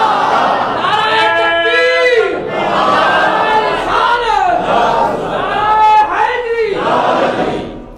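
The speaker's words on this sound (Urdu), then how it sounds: "نعرے لگانے میں بھی ذرا ترتیب کا خیال رکھا کریں۔" A large crowd at an Islamic religious gathering chants slogans in unison, with loud, close, rising and falling voiced calls repeating about every two seconds.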